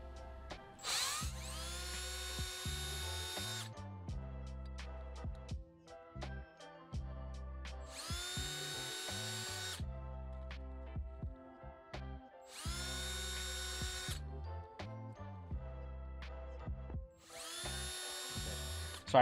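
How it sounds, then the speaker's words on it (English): A power drill boring pilot holes to mount an aftermarket light switch in a Ram 2500, four bursts of whining motor spin-up of a few seconds each, separated by quiet pauses and light clicking handling noises. "Drill my pilot holes."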